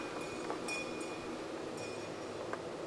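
A faint, distant train at a coal mine tour town in Ashland, Pennsylvania rumbles in the background, with a few brief high metallic squeals or tones ringing out over the steady hum.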